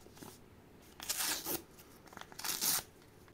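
A small screen protector accessory packet for a tempered glass iPhone 12 protector is torn open by hand, giving two short crisp bursts of tearing and crinkling close to the microphone with quiet pauses between.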